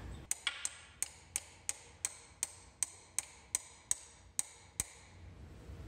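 A small hook tool works at a pilot bushing in an old Jaguar E-Type engine, making a steady series of about fourteen sharp metallic taps, evenly spaced and close.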